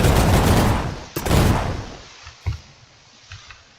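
Scoped full-auto rifle from the Minecraft Create: Love And War mod fires a loud dense burst at the start, then a second burst, followed by a few isolated, quieter shots trailing off.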